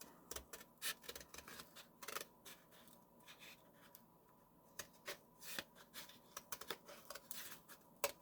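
Scissors cut leather for an 18th-century style shot pouch, making a close, quiet series of crisp snips in irregular bursts, mixed with light rustling of the hide.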